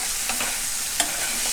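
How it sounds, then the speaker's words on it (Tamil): Mushrooms frying in a pan, a steady broadband sizzle with a couple of soft clicks from stirring, close and moderately loud, no voices. "இப்போ நல்லா இந்த அளவுக்கு இது ஃப்ரை ஆகியிருக்கு"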